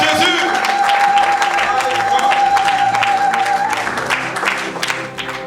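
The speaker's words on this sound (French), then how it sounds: "Clap your hand for Jesus." A church congregation at a Saturday deliverance and miracles service claps and cheers for Jesus, a loud, dense, continuous wash of applause that eases slightly toward the end.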